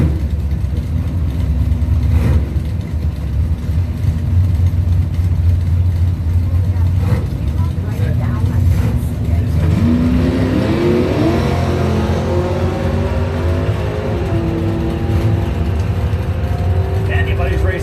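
Pontiac drag race cars, a Firebird among them, rev loudly at the line, then launch with a rising engine roar that climbs steadily through the second half, steady crowd and track noise underneath.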